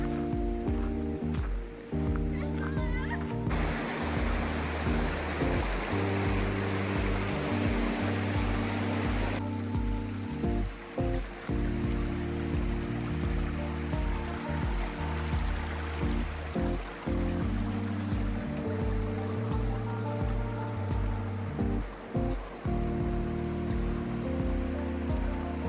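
Creek water flows steadily on a short hike to a waterfall in Santa Clarita, a continuous close rushing and splashing with low rumbling underneath and no speech.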